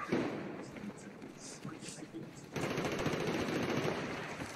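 Rapid automatic gunfire rattles in a Battlefield 4 deathmatch, with bursts of shots and thuds over the game's ambience, and a player talks now and then over the shooting.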